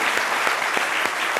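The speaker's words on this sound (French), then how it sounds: "On applaudit très fort" A studio audience on an Ivorian talk show applauds, a brief, even burst of many hands clapping close and steady, with no voices over it.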